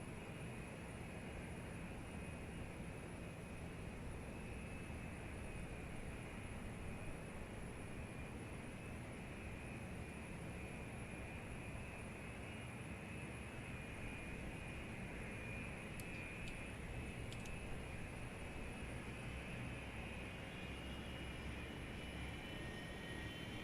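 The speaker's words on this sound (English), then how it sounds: "Starting number 2 engine." An airliner engine spools up during start in the Zibo mod flight simulator, producing a steady, even roar with a thin high whine held throughout, close and continuous with no voices.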